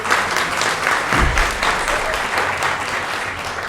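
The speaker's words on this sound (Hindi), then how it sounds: "अच्छी सी तालियां बजाइए जैसे कोमल ने कहा था।" An audience at an awards event applauds in a dense, steady round of clapping that carries on loud throughout.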